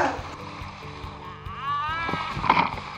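Fiberglass boat riding rough, wild sea waves, with a steady churning wash of water and wind throughout and a few brief bumps and splashes near the end.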